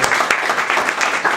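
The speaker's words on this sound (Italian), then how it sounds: "intanto fate un applauso alla Tortoreto" Applause from an evening audience at a rugby gathering, greeting a player of the Tortoreto Rugby club: a short, dense, steady wash of many hands clapping at close range, filling the whole moment.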